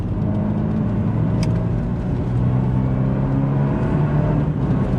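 An Abarth 124 Spider sports car engine drones with a steady low hum that rises and shifts in pitch as it revs, heard from inside while driving.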